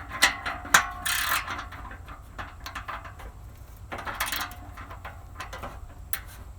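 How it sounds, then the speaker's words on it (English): A hand ratchet tightening muffler clamp nuts on a 1994 Astro van, a few short clicking strokes in bursts separated by pauses, close by among light metallic handling noise. "Now we're going to hold it in place while ratcheting it"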